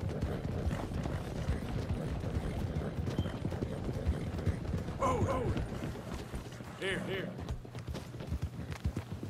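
In Red Dead Redemption 2, horse hooves clop in a rhythmic trot. Brief higher calls rise over them midway, and the hoofbeats stay steady to the end.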